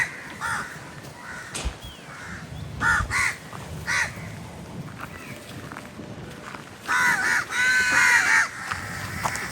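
Crows caw near a lake in a Sri Lankan park, a handful of harsh calls in short bursts, fairly close, with a longer rasping run toward the end over faint footsteps and outdoor ambience.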